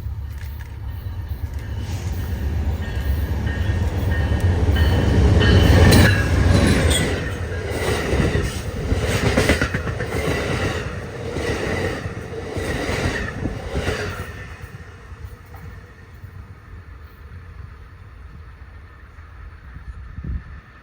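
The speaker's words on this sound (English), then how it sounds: "the westbound edition of the Texas Eagle glides onto the single main track en route to Fort Worth" The westbound Texas Eagle passenger train rolls past steadily on a single main track, rumbling with rhythmic clacking of wheels over rail joints and a faint squeal, fading as it moves on.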